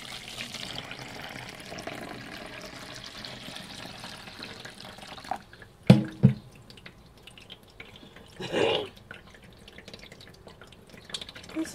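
Steeped nettle, mint and garlic insect spray drains into a cut milk-jug funnel with a coffee filter, quiet drips and a couple of brief splashing pours over a faint background hiss.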